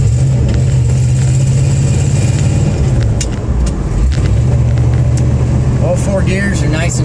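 A bagged 1954 Packard with an older Borg-Warner four-speed gearbox, posi-traction rear end and highway gearing drives along, its steady mid-pitched engine drone dipping and rising again as it shifts gears; the sound is continuous and close.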